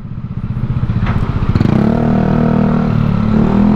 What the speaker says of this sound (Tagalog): Ganda ng motor niya, oh.